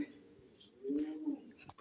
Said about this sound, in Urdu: تو یہ کبوتر کی آواز آ رہی ہے، دیکھ رہے